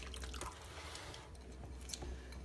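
Chicken marinade trickles and drips softly into a Ziploc bag, faint and close, with a few small wet splashes and no talking.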